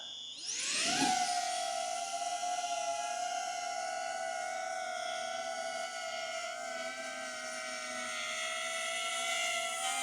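DJI Avata 2 FPV drone spinning its motors up and lifting off, a loud steady high-pitched propeller whine that rises sharply at takeoff and then holds close and constant while it flies.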